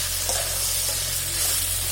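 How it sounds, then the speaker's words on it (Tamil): Ivy gourd fries in oil with onion and tomato, a steady close hiss and crackle of sizzling with a faint stirring touch, heard alone. "வெங்காயம் தக்காளியோட காய் நல்லா எண்ணெயிலே வெந்துருச்சு."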